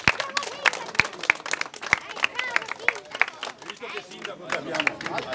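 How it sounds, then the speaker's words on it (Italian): Polite applause from a small gathering at a morning event in Moena, scattered claps over crowd babble and movement, with sharp individual hand claps standing out near the listener. "applauso di circostanza"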